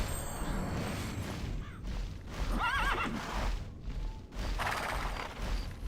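Horses in the Tera video game neigh and whinny over a steady clip-clop of hooves, with several loud whinnies standing out against the continuous game sound and no voices.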